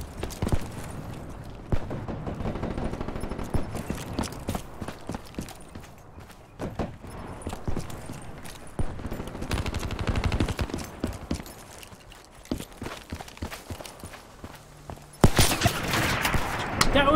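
Gunfire in the shooter game Call of Duty: Black Ops 3, rapid bursts of shots crackling across the whole clip at steady loudness, with a harsher, louder burst near the end.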